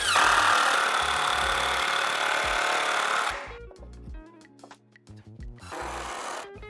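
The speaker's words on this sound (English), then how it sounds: "I'm gonna run down the length of this 2x4, adding a few more screws" Power drill driving screws into 2x4 lumber for a DIY slide bar, a loud steady whir for about three seconds, then short bursts of drilling separated by brief pauses, with a final longer run near the end.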